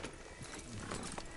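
Horse hooves in Red Dead Redemption 2, a steady clip-clop of hoofbeats over a dense, continuous game soundscape, with a whinny-like tone in the mix.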